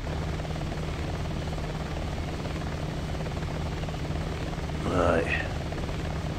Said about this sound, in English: Recon chopper on screen.